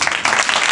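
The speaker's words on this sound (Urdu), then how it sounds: "اپنے لیے تالیاں بجاؤ" A church congregation at a Sunday prayer service clapping in a loud, dense burst of applause with a steady rhythm, close and filling the room.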